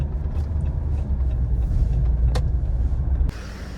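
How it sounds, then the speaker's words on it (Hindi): Jeep engine rumbling low and steady as the vehicle slows and parks, with a faint click near the end before the engine note drops off. "गाड़ी पार्क भी करते हैं।"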